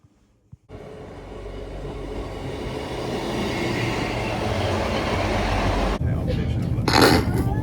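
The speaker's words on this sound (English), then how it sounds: "Now we're on train." Steady rolling rumble and rattle from inside a moving train carriage, loud and continuous, with a brief bump near the start and a rising hiss toward the end; no speech over it.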